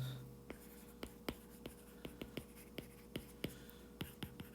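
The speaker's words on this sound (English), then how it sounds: "write that down." A pen or pencil writes notes by hand in a quiet room, giving soft scratchy strokes with a dozen or so short taps and scrapes in an uneven rhythm, close and faint.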